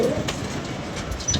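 Pigeons coo softly in a low, repeated murmur, with brief higher chirps over a steady background hum.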